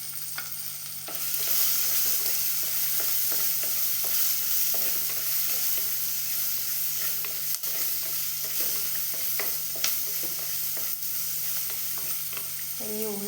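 Ginger, garlic and green chilli sautéing in a pan for a Kerala-style fish curry, a steady oil sizzle with repeated scrapes and stirring knocks of a spoon, close and alone.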